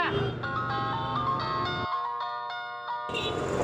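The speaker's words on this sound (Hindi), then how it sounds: "घंटी बज रही है।" A phone rings with a bright, melodic electronic ringtone that plays steadily and loudly, with no voices over it.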